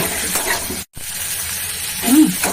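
Food sautéing in a pan with Kashmiri chili, a continuous close sizzle and hiss that cuts out for a moment and then resumes, growing slightly louder near the end.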